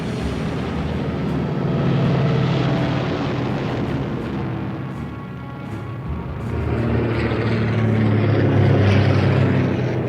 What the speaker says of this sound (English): the RAF, which is flying in now across the channel